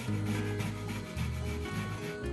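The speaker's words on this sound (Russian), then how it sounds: "Далее беру имбирь длиной 3 сантиметра кусочек имбиря. Натираю его на мелкой терке." Fresh ginger, a piece about 3 cm long, rubbed on a fine kitchen grater in steady back-and-forth scraping strokes, close and fairly loud, with no talking.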